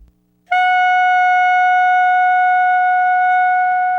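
Bright, shrill tone from a clarinet mouthpiece and reed blown on their own, entering after a short pause and held loud and steady for over three seconds, no voices.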